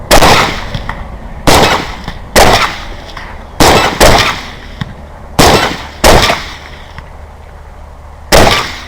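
About nine sharp, loud rifle shots fired at hogs ring out at irregular intervals, each cracking then echoing briefly, with no talk between them.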